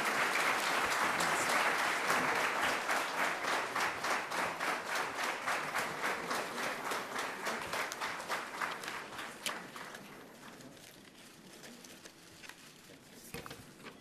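Sustained audience applause greets the chief guest at a golden jubilee celebration, steady dense clapping from a large crowd that gradually thins and fades toward the end.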